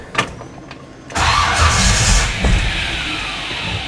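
A V8 fitted with a new Edelbrock VRS 4150 carburetor cranks briefly, then catches and settles into a loud, rough idle close by, with no talk over it.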